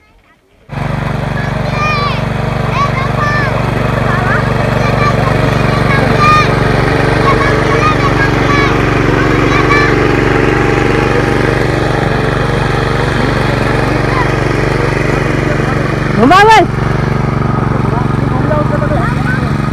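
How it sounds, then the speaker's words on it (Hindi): A tractor engine runs while being driven on a farm field, a loud, steady low drone that starts abruptly after a second of quiet and holds constant, with voices faintly audible over it. "अभी पहली बार मैंने ट्रैक्टर चलाया"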